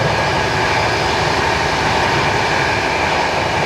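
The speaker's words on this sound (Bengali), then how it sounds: "এই যে আমাদের ট্রেনের স্পিড এবারে উঠছে" Inside the 12863 Howrah–Bengaluru Superfast Express picking up speed in dense fog, a loud, continuous rushing roar of wheels and wind with no breaks or voices.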